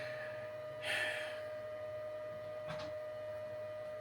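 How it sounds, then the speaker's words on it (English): An Epson 8550 inkjet printer clogged with built-up ink sludge tries to print: a faint steady hum, one brief whirring burst of the print mechanism, then a short soft mechanical click. "It's printing, it's trying to print, but it just can't print because the sludge is built up in there."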